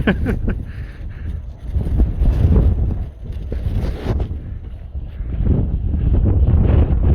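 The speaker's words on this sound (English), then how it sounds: "Oh my god, it actually got so windy." Strong gusts buffet a phone microphone outdoors during a walk, producing loud low rumbling roar that rises and falls continuously throughout, with no clear speech.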